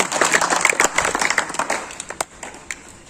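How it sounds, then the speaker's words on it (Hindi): A group claps for a student in a classroom, with scattered applause that starts fairly loud and thins to a few isolated claps by the end. "जोरदार ताली इसके लिए"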